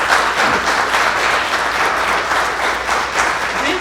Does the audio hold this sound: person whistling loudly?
no